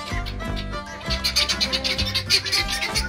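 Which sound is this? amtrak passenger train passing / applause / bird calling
bird calling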